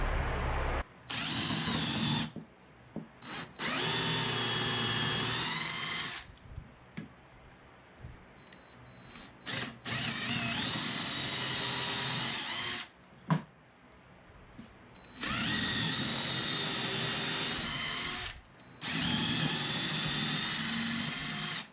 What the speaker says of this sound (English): We're ready to drill.